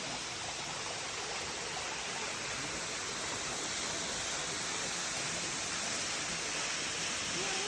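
A flowing stream at a waterfall pours steadily, a dense, continuous rush of water that stays loud and even throughout, with no voices.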